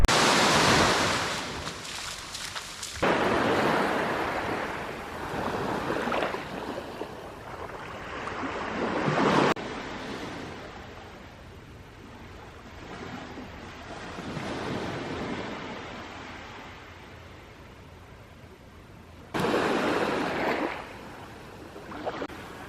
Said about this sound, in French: Je suis en train de me baigner sur la plage du parc naturel de Koh Lanta.